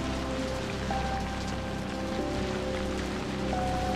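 Steady rain falling during a hurried day, a dense, constant patter on surfaces that stays even throughout with no voices, though faint tonal hums sit underneath.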